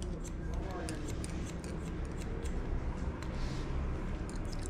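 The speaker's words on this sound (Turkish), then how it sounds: "ince telli saçları olduğu için makası çok fazla açmıyorum" Scissors make small, quick snips through fine hair during a layered haircut, a steady series of light clicks close to the microphone over a constant background hiss.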